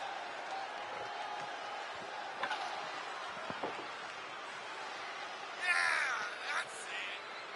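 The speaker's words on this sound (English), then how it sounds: "You can hear the crowd." Wrestling arena crowd in the video game WWE 2K22, a quiet, distant murmur of cheering with a few brief swells and a louder whistling burst toward the end.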